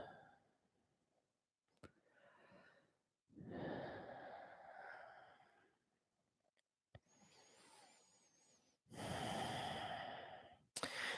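Slow, deep breaths taken while resting during a vinyasa yoga class: several distinct, fairly close inhales and exhales separated by pauses, some soft and breathy, others louder and rushing, with no talk.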